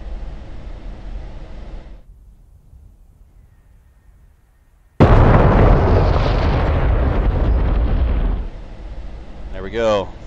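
A laser-guided bomb from an F-16 in a flight video game strikes an ammo depot bunker, giving a sudden loud broadband blast that roars on for about three seconds before a quieter rumble trails off, with a brief voice near the end.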